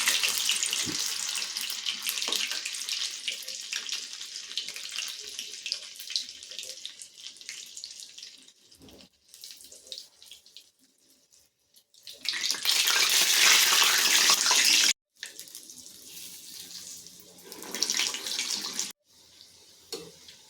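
Medu vada batter rings sizzle in hot oil on a medium flame, a loud, close, bubbling hiss that comes in bursts, fading and then surging again as more vadas go in.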